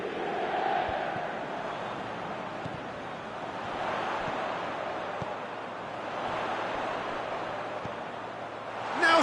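A football stadium crowd applauds a player being substituted, heard as a broad, steady roar that swells and eases in slow waves from far off.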